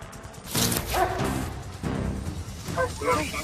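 A police dog barks and yips several times during a hunt through woodland, short sharp bursts spread across a few seconds, mixed with other voices and movement.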